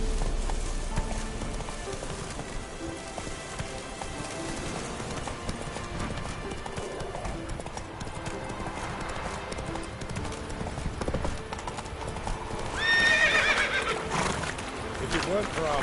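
Roach the horse in The Witcher 3 clip-clops at a walk with steady hoofbeats, then gives a short neigh near the end, with rain and ambient game sounds beneath and a voice speaking in the game.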